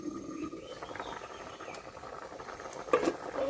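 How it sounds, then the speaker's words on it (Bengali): Duck egg curry gravy with potatoes bubbling in a covered pan, a soft steady patter of boiling with a few brighter pops near the end, fairly quiet and with no talk. "ঝোলটা তো একদম ফুটেই গেছে।"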